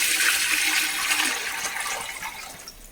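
Measured water, about one and a quarter times the rice, is poured into a pot for chicken biryani, giving a loud, steady rushing splash that gradually tapers off over a few seconds.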